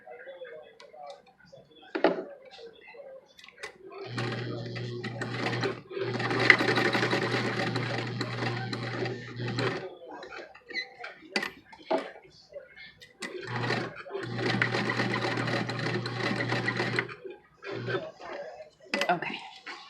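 A home sewing machine stitches a fabric face mask in two long, steady bursts of rapid mechanical whirring, with clicks, handling noises and brief pauses between the runs.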